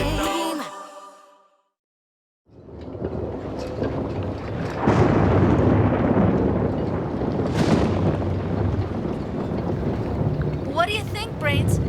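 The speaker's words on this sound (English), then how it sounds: "What do you think, Brains? Is the storm going to hit us? No, don't worry. The wind's coming from the sea" Wind roars steadily in a cartoon storm by the sea, a dense, loud rush that rises after a brief silence, with tonal music or voices at the start and end.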